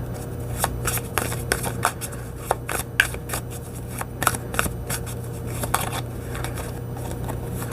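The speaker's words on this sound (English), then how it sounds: "Let me get some more cards here before I say anything else." Tarot cards are shuffled continuously and close up, with a rapid run of riffling snaps and slaps over a low steady hum, and no talking.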